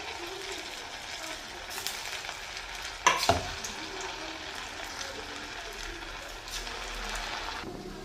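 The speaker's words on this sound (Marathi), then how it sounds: "चिकन तळून घेऊया" Marinated chicken fries in oil with a steady close sizzle, broken midway by a sharp clatter of stirring and a brief burst of louder crackle.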